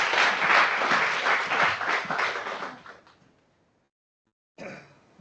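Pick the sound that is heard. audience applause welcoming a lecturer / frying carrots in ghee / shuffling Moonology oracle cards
audience applause welcoming a lecturer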